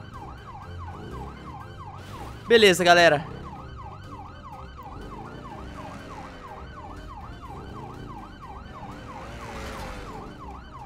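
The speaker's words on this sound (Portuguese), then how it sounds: "Liga a sirene da polícia." Police car siren in the GTA V Online video game, a steady wailing up-and-down tone running continuously at moderate level under engine noise, with a brief loud shout and some talking over it.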